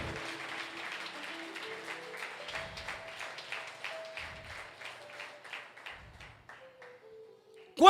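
A church congregation claps together, a steady dense patter of hands filling the space, with a sustained organ or keyboard tone underneath and a few soft low thumps; the clapping continues throughout without speech.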